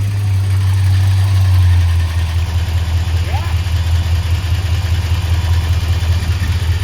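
The engine of a 1958 Studebaker Golden Hawk idles with a loud, low, steady rumble as it warms up, and a deeper drone drops away about two seconds in.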